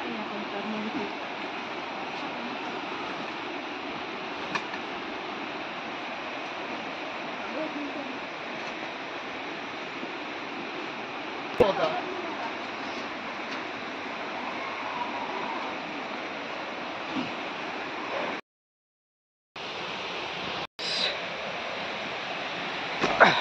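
Kondi waterfall in a jungle setting in September, a steady broadband roar of falling water heard near and continuous, with a brief dropout near the end.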